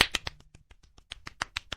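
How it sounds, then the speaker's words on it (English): A short burst of sharp hand claps, a dozen or so quick irregular slaps in a quiet room, close and dry, with no talking. "Why are we clapping?"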